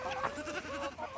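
Saanen goats and young doelings bleat on a farm at evening, several overlapping wavering cries close by in quick succession.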